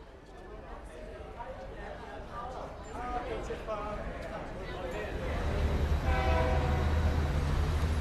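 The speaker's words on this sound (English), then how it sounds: "Morning and evening, the freight train rumbles through, laden with ore." An ore-laden freight train rumbles steadily past, a low continuous roar building louder toward the end, with faint clatter over it.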